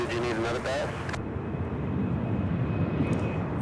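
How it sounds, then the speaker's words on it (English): An American Airlines Boeing 777 jet from Frankfurt roars steadily on final approach to land on runway 18 left at Charlotte Douglas airport, a sustained engine rumble that continues after a voice speaks briefly at the start. "that 777 coming out of Frankfurt, American Airlines Flight 705, now on final approach for a landing on 18 left"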